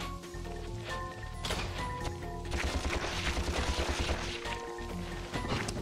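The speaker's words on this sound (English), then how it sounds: "I'm just gonna shoot these suckers this time." Rapid weapon fire from Ratchet & Clank blasting enemies on Nebula G34, loud bursts and crashes layered over a steady game music bed, with dense repeated shots through the middle.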